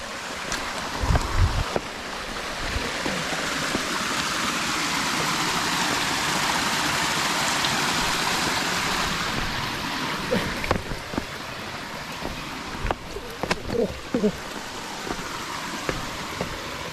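Water flows steadily along a stream below a waterfall on a forest walking trail in Thailand, a continuous broad rush with a few brief knocks and rustles and no talk.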